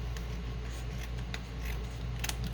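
A paper journal card is trimmed, producing a close, continuous scraping, slicing rasp with a few brighter clicks, and no voices.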